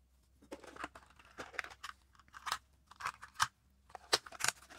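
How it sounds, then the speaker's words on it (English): A brass brush scrubs the grooves of an automatic numbering stamp, quick irregular scratchy bursts up close, fairly quiet, with no talk. "Maybe I'm just going to take another type of brass brush."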